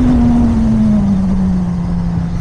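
A 2020 Yamaha MT-09 or Suzuki GSX-S 1000 motorcycle engine runs loud and steady close up, a strong low drone holding high revs without speech.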